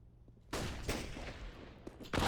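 A grenade going off in a Counter-Strike match, a sudden loud burst followed by a crackling tail and a second sharp blast at the end.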